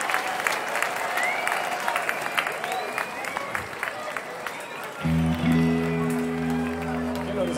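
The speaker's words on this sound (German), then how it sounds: "Komm mal, einen fetten Applaus für die!" Concert crowd at the Rock Am Turm open-air festival in Coesfeld applauding a rock band's technicians, steady clapping and scattered cheers for about five seconds before sustained amplified guitar tones and a voice take over the mix.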